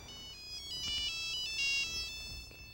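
A mobile phone rings with a bright, repeating electronic melody, loud and close, steady for the whole moment with no talk over it.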